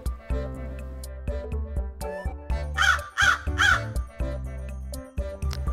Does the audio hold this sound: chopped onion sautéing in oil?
no